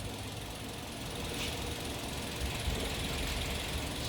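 A car engine idles roughly with a misfire, a steady low rumble with uneven pulsing, heard close and fairly faint with no talking.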